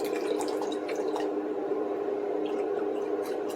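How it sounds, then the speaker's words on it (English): Water pours steadily over potatoes in a cooking pot, a continuous close splashing and gurgling fill that lasts throughout with no voices. "you just cover up the potatoes with water"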